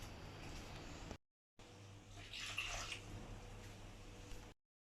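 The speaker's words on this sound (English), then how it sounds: "pour in tap water into here." Tap water pouring into the reservoir of a Tefal Convenient Series VC1451 steamer, a steady close splashing flow that briefly stops and resumes with a brighter gurgle in the middle.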